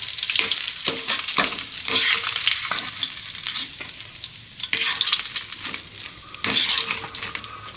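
Shrimp and golden fried garlic are stir-fried in a hot pan, a loud continuous sizzle broken by repeated scraping strokes of a spatula.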